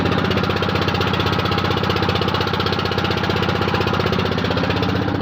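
A boat engine chugs loud and close near the Farakka barrage, a steady rapid knocking drone that continues without a break.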